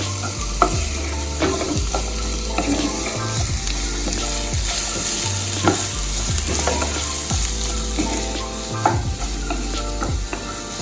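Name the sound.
vegetables sautéing in a pan for escovitch fish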